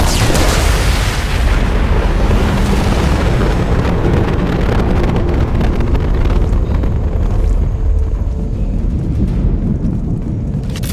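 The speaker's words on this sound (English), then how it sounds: "Impending explosion." A big explosion in the video game Mass Effect 2 booms out and sets off a long, loud, rumbling roar that carries on across the whole stretch with no voices.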